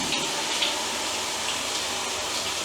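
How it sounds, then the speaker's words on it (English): Water runs in a hotel shower with strong pressure from a detachable head and rainfall shower, a dense continuous spray close by, steady and alone without talk. "you can run the detachable shower head and the rainfall shower at the same time"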